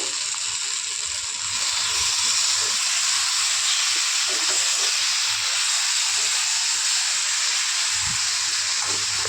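Food frying in a kadai gives off a loud, unbroken hiss and sizzle like escaping steam, holding steady from start to finish, with only faint low knocks and no speech.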